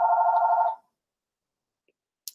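A single telephone ring bursts loud and close for under a second, a steady pulsing electronic tone, followed by near silence with a faint click and a brief high tick at the end.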